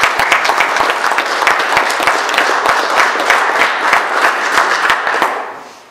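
An audience at a town meeting gives sustained, steady applause for retiring firefighters, dense close clapping throughout that fades at the end.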